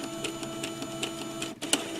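An Epson Stylus Color 800 inkjet printer printing a test page, with a steady mechanical whir and rapid regular clicks of the print head shuttling back and forth, close and moderately loud.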